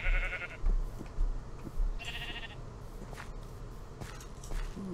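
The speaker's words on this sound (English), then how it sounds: "Ooh, sheep." Sheep bleating in the video game Minecraft, several short wavering bleats repeating over a footstep-like shuffle, moderately loud and close, with no one talking.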